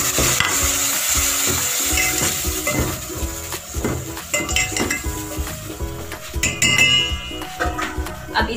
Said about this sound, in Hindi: हमारा प्याज ब्राउन हो चुका है, तो अब हम इसमें अपना ये पेस्ट डालेंगे